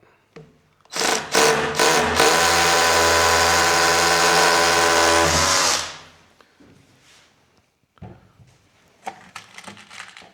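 An electric drill bores in a garage, several quick trigger bursts giving way to a sustained loud motor whine for about five seconds, then a stop followed by faint clatter.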